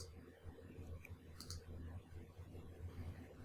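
A few sharp computer mouse clicks stand out against a quiet low background hum, spaced irregularly with one brighter cluster near the middle.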